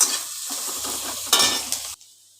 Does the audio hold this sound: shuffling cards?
no